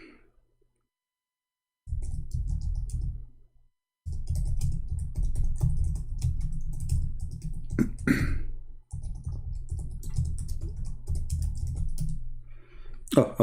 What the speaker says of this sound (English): Oh, I was typing in Arabic.